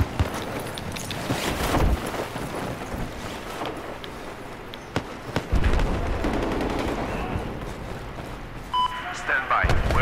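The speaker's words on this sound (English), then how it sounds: "Machine gun." Machine gun fire in Battlefield 4, loud rattling bursts of automatic fire mixed with scattered shots and impacts throughout a busy battle, with occasional beeps.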